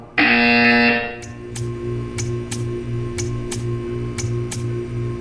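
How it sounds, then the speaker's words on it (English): A loud, sustained electronic buzzer from the video game Portal 2 for about a second, then a steady low hum with a faint tick repeating roughly twice a second. "When you hear the buzzer, stare at the art."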